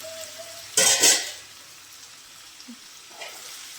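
Chicken curry sizzling and being stirred in a pan, a loud scraping, hissing burst of about half a second, then quieter frying and a faint clink later on.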